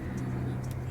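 A car passes on a major street outside a bedroom, a brief, faint, low engine hum at a distance.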